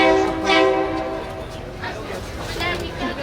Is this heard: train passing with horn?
yes